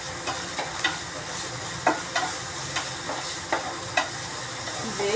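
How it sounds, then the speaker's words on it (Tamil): Onions sautéing with a pinch of salt in a pan for aval upma, a gentle steady sizzle punctuated by regular, fairly quick spatula scrapes and taps, with no speech. "வெங்காயம் ஒரு லேசாக வதங்கிறதுக்கு இதில் உப்பு கொஞ்சம் போடணும்."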